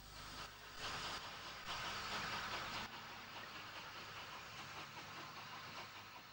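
A Bulleid Pacific steam locomotive pulls away heading south, a steady broadband rumble and hiss with louder bursts early on, fairly distant and continuous with no voices.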